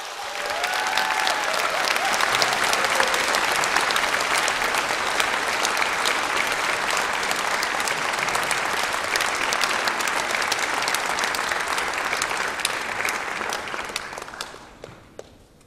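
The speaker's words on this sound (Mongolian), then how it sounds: "Гамбаатрийн Ариун Баатрийг халуун алга ташилтаар өгтөө авцгаая" Warm concert applause at a gala of German music at the German Embassy in Ulan Bator, welcoming a baritone singer: a large audience claps in a thick, sustained roar that holds steady, then tapers off near the end.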